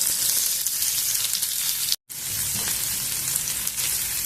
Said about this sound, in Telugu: ఇంకా కొద్దిగా వేయించుకున్నాము